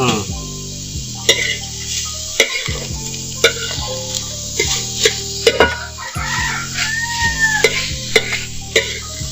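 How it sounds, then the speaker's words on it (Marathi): An onion roasts on a tawa over a wood-fired village stove, with soft sizzling broken by sharp, irregular scraping and stirring knocks, while a rooster and other fowl call in the background. "तर कांदा चुलीवरती भाजून घ्यायचा आहे मस्त तव्यावर टाकून टाकून ठेवायचं"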